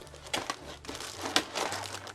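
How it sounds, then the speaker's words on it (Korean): Plastic wrapping crinkles and rustles close up while Campagnolo Super Record 12-speed bicycle parts are unboxed, a soft irregular crackle with no speech over it. "막 이렇게 비닐로 막 잘 감싸져 있고요."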